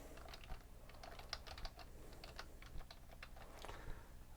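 Someone types quietly on a computer keyboard, with an irregular run of soft clicks and taps heard close and alone.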